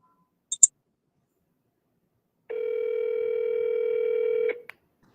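A phone call rings out without an answer: a couple of quick clicks, then a single steady electronic ring tone lasting about two seconds before cutting off, followed by a faint click.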